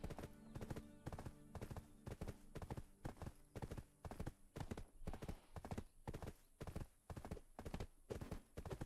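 A horse's hooves clip-clop in a steady, brisk rhythm in the online game Black Desert Online, each strike crisp and close, continuing evenly without voices.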